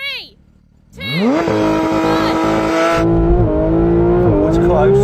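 A VW 1303 and a Porsche 911 race side by side, engines snarling as they launch and rev hard through rising gears, loud and close after a brief quiet start, with voices talking over the noise.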